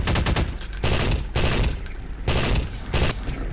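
Rapid automatic gunfire in a Half-Life 2 beta mod, heard as several loud sustained bursts separated by short pauses, close and dominant with no speech.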